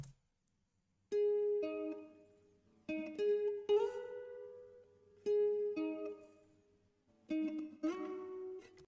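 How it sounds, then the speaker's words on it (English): Guitar top lines played in FL Studio, bright plucked notes in short phrases separated by brief pauses, clean and close, alone without talk. "And then I played 2 other top lines on the guitar which sound like this."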